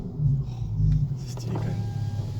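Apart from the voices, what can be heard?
Volkswagen Golf R32 idling with a single exhaust silencer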